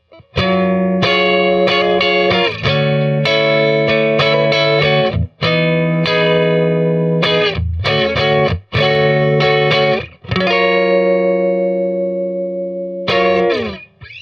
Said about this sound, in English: Neck pickup by itself.